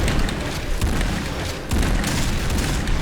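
A sniper rifle firing in the shooter game Point Blank: heavy booming reports, one sharp crack near the start of the second half, layered over loud, dense, continuous game noise.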